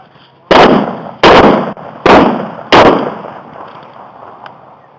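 Shotgun fire during a late-season goose hunt in Indiana: four loud, sharp blasts in quick succession, each followed by a brief decaying echo across open ground, with no talking.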